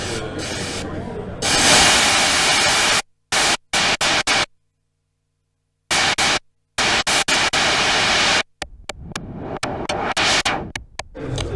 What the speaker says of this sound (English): You can also switch between white and pink noise